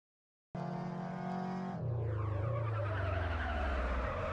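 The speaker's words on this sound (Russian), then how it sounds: "разогнаться до пятой передачи и затем начать резкое торможение" Simulated car in a game engine demo accelerating through the gears to fifth and then braking hard: silence, then a rising engine tone, a gear shift, and a long tire skid with falling engine pitch, no talk.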